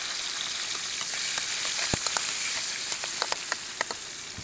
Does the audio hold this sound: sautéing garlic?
yes